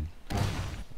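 A grenade explosion in the arena shooter game Reflex: a single abrupt, broadband blast that bursts in after a quiet moment and rumbles on with a dense low-end tail for most of a second.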